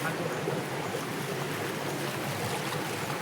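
Water racing down a fast-flowing channel that feeds a mill in Jajarkot, a steady, close rushing wash with a low churning rumble, continuous and even throughout with no voices.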